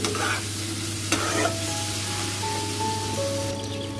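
Pumpkin pieces frying in oil in a home kitchen pan, a steady close sizzle with light stirring scrapes running through the whole stretch, no talk.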